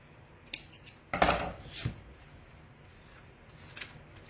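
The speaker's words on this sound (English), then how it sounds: "And now I'm gonna cut." Scissors snip through ribbon while making a bow, a few sharp close cuts and rustles, one longer cut in the middle, all fairly quiet and with no talking.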